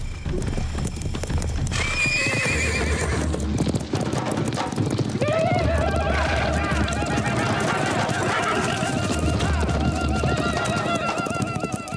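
Cartoon horses gallop with rapid clip-clop hooves and loud whinnies, set under a busy orchestral score with shouting voices, all close and continuous throughout.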